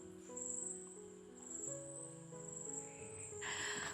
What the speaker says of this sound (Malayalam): പക്ഷേ ജോൺസൺ മാഷിൻ്റെ സംഗീതമല്ല, ചീവീടുകളുടെ സംഗീതം